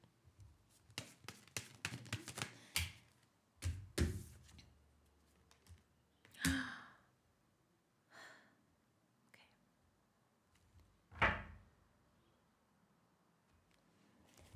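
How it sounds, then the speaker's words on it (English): Tarot cards being shuffled in soft, irregular bursts of riffling and tapping, close and quiet, with whispered speech between the bursts. "let me shuffle and see what comes up."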